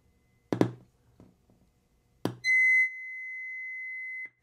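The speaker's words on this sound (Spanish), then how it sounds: "Ahora el, el generador está generando una señal." 2000 Hz sine tone from a signal generator played through an amplifier: a few taps and knocks, then a pure steady whistle comes on loudly, softens slightly and holds for nearly two seconds before cutting off.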